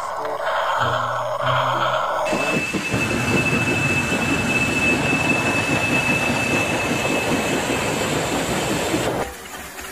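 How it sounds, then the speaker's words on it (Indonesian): A Thomas toy train clatters along with a busy rattling rhythm and a thin high whine, starting after a brief jingle of music and stopping abruptly near the end. "Dapatkan kereta api teman-teman. Coba dinyalakan."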